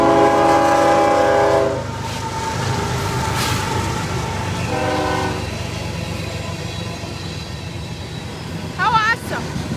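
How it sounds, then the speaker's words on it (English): A passing train rumbles loudly nearby with a long horn blast at the start, steady clattering wheels throughout, and another brief horn later, while a voice speaks faintly underneath. "here comes the train."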